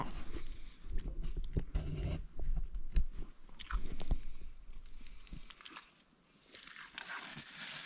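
A pet cat chews food handed to it during a roadside snack break on a fishing trip, with close, wet biting and crunching sounds in irregular bursts over outdoor background noise, quieter near the end.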